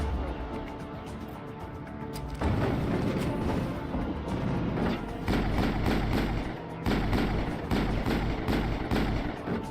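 Shotgun blasts in the Mass Effect video game boom out amid a dense, noisy firefight, several heavy thumping shots spaced a few seconds apart over constant background combat noise.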